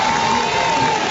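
Crowd at a high school basketball sectional game standing and cheering for their team's defense, a loud continuous roar of many voices filling the gym.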